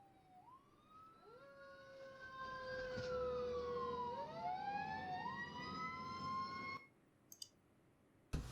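Fire engine siren from the Emergency 4 video game, a loud wailing tone that rises and falls in layered sweeps with several overlapping siren voices, cutting off abruptly near the end followed by a few clicks.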